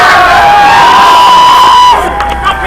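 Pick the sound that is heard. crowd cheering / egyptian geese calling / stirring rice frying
crowd cheering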